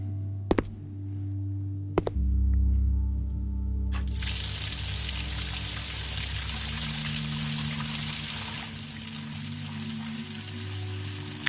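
Running water from a tap in the video game Free Shorties, a steady broad hiss that starts after a couple of sharp clicks and flows continuously, easing slightly near the end over a low background hum.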